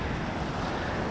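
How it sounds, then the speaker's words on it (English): Ocean surf rolls in at a river bar entrance on a wild west coast, a steady, loud broadband roar mixed with wind buffeting the microphone, no voices. "You can really see the pressure waves rolling in here"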